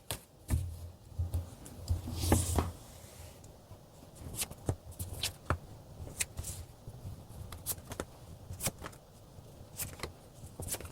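Tarot cards are shuffled and drawn in a quiet room, a scatter of soft, close paper flicks and taps with irregular spacing and a brief rustling burst early on.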